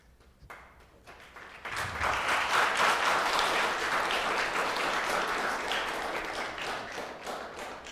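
Audience applause breaks out at a village council meeting, rising after a brief quiet start into a sustained, dense wash of clapping that holds steady, then eases slightly toward the end.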